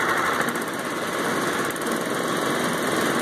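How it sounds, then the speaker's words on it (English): Honda GX160 small engine fitted with a quiet pack silencer muffler, idling at tick over with a steady, even putter that stays constant throughout, heard close by with no talking. "That's only on tick over, but I think you can appreciate this is pretty bloody quiet."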